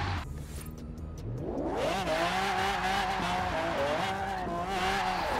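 A car doing donuts in the video game Forza Horizon 4 lets out a loud, sustained tire squeal that wavers in pitch, with the engine revving steadily underneath throughout.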